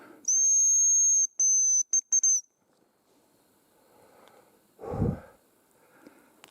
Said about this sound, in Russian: сразу услышал свист рябчика